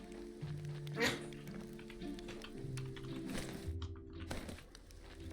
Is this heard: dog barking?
yes